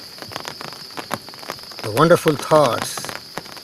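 Rain falls steadily as a constant hiss with scattered drops, heard throughout while someone speaks briefly over it.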